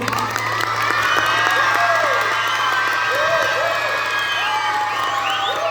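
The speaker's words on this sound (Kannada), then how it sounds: "ಅವ್ರಿಗೆ ಮತ್ತೊಮ್ಮೆ ಜೋರಾದ ಚಪ್ಪಾಳೆಯನ್ನು ಕೊಡಬೇಕು" Loud applause mixed with cheering and whoops from a festival audience for the performers of a Bhagat Singh play, sustained throughout with rising whistles and shouts over a steady hum.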